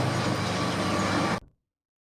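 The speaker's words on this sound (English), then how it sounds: "Yes, we do have a loud train." A loud, dense rumble of a train rolling past, constant and roaring, then cutting off abruptly into silence near the end.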